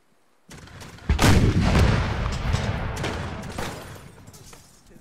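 Cannon artillery fire in the video game Napoleon: Total War: a sudden loud boom opens into a dense rumble of overlapping shots and crackling volleys that rolls on for several seconds before slowly fading, with no talk.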